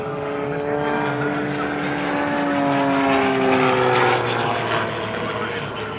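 A Rebel 300 aerobatic plane with a big 500 cubic inch piston engine performs at the Singapore Airshow, a loud continuous propeller roar with shifting harmonic tones sweeping up and down as it maneuvers, filling the whole stretch.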